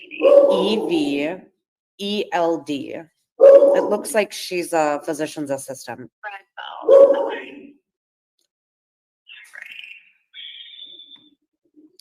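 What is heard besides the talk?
dogs barking in the background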